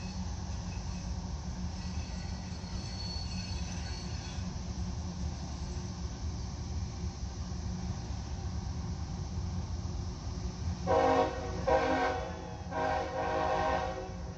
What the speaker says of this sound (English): This is CSX M541, daily manifest from Cincinnati, Ohio to Waycross, Georgia.